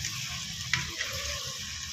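Pasta tossed in masala in a hot pan, a continuous close sizzle with soft stirring scrapes and a brief utensil tap, cutting off at the end.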